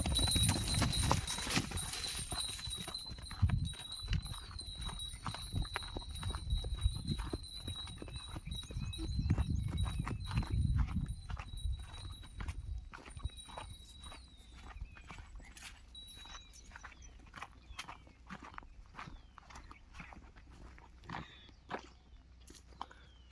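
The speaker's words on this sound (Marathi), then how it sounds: "तुम्हाला बैल जोडी फिरवून दाखवला" A prized pair of bulls, kept for the Pola festival, walks on a road with their hooves clopping in a steady rhythm close by; a heavy low rumble in the first half fades as the steps continue.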